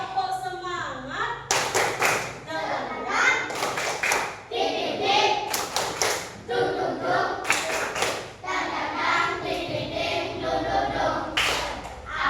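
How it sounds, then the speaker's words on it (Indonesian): Classroom of fourth-grade children clapping together in repeated bursts of rhythmic clapping, loud and close, with brief pauses between rounds and some voices mixed in. "Tepuk semangat."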